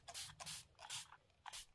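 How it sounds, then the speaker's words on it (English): A hand pump spray bottle spritzes water or Best Press starch onto quilt fabric in four quick bursts, each a short soft hiss, close and fairly quiet with no talk. "So I'm going to give this a little shot of spray."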